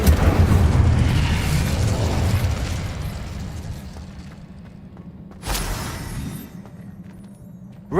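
A fiery Incendio spell erupts in Hogwarts Legacy, a loud burst that rolls out into a long roaring wash and fades, then a second sharp flare-up flashes and trails off.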